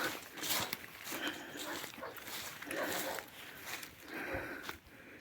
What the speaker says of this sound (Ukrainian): Там собака розривається чиясь.